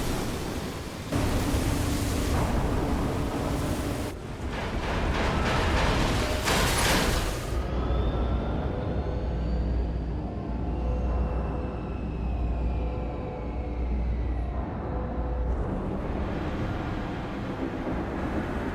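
A city rising in Armored Core 6 gives a massive, continuous low mechanical rumble with grinding, roaring noise that swells and shifts over many seconds, loud and close, with no talking.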